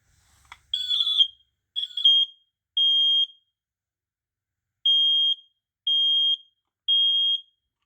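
A smoke alarm under test sounds in loud, piercing electronic beeps, first a few ragged bursts, then three steady tones, a pause, and three more evenly spaced beeps, with no talking.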